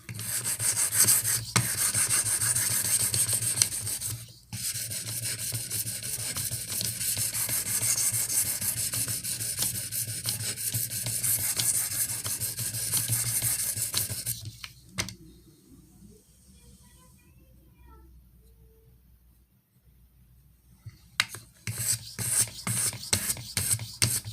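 A Benchmade 13940 knife blade is rasped across a coarse 100-grit Venev diamond stone in steady, close scraping strokes, continuous for about fifteen seconds, then a quiet gap before brisk, rapid strokes resume.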